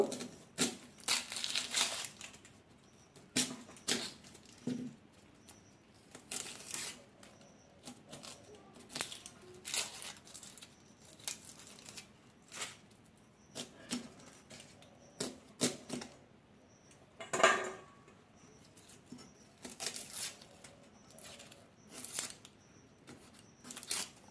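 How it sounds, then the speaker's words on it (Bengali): Onions are cut with a knife in a series of faint, irregular crisp crunches and slices, with short pauses between strokes and no talking. "আমি পেঁয়াজটা কেটে নেব।"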